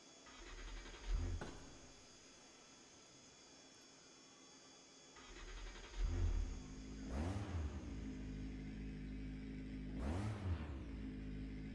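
Race car engine in the video game RaceRoom starting up and then revved in several sharp, rising-and-falling blips over a steady idle, loud and close.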